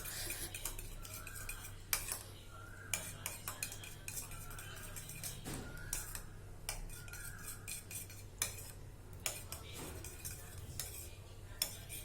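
A spoon stirs and scrapes around a bowl while a homemade hair mask with lemon is mixed, giving repeated soft clinks and scraping strokes, close and quiet, with no talk.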